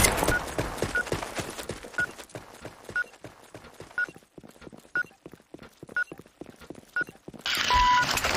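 Planted bomb in Counter-Strike beeping steadily about once per second, faint and regular, over soft footstep-like game noise, ending in a brighter burst of louder sound.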